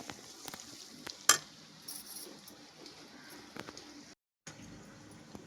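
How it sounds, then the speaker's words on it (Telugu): Prawns fry in a pan with a faint, steady sizzle, broken by scattered light clinks and scrapes and one sharp utensil knock. The sound cuts out briefly near the end, then resumes. "మనకి రొయ్యలు కూడా ఎర్రగా ఎగిపోయాయండి"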